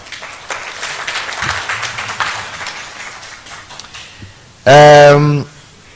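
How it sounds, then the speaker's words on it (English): Audience at a youth stakeholder engagement session in Johannesburg gives a round of applause; scattered clapping rises and fades, followed by a loud brief tonal burst near the end. "can you have a round of applause for that, please?"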